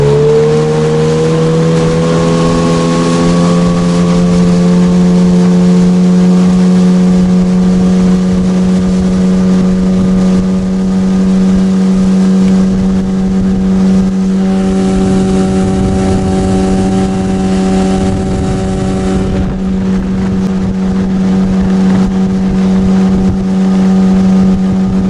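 A Mikatsu 9.8 outboard motor drives a new boat at steady high throttle, its loud, even drone holding close and continuous throughout with a slight rise in pitch early on, no voices over it.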